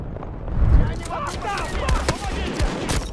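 Gunfire in the shooter game Battlefield 2042, a few loud bursts and shots near the start and scattered cracks after, mixed with game noise while players talk over it.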